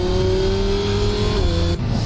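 Car engine revving in a Batman movie, a loud sustained roar with a steady pitched drone that shifts slightly before cutting off near the end.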